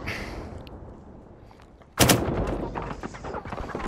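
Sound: gunfire in the video game Firewall Zero Hour

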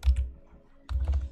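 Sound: typing on a computer keyboard

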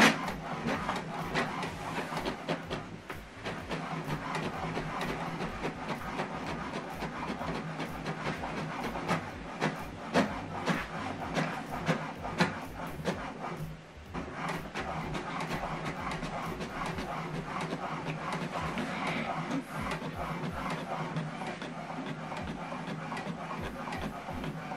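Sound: HP Deskjet printer printing a document

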